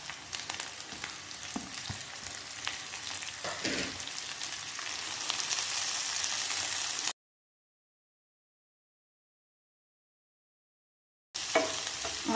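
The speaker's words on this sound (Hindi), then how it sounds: "इस स्टेज पे मैं ऐड कर दूंगी हमारे मूली के पत्ते" Radish leaves tossed into golden-brown fried onions in a pan give a steady, close sizzle with stirring scrapes, then a few seconds of silence before the frying resumes.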